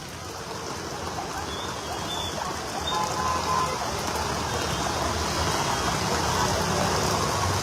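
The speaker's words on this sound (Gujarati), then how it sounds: "વડોદરાના અલગ અલગ વિસ્તારમાં મેઘરાજા જે છે મન મૂકીને વરસી રહ્યા છે" Heavy monsoon rain pours onto a waterlogged street near a commercial building in the Alkapuri area of Vadodara, a dense, unbroken wash of falling water that swells slightly, with faint traffic underneath.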